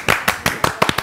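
A few separate hand claps from a Spanish-language morning TV show studio audience, uneven and spaced out over about a second, close and sharp rather than a full round of applause.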